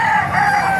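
Rooster crowing at a busy chicken market in Baliuag, a loud sustained crow with steady bright tone over a continuous crowd and market murmur, heard up close.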